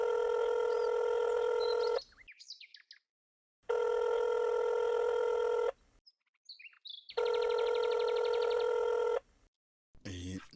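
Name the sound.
telephone ringing, radio drama sound effect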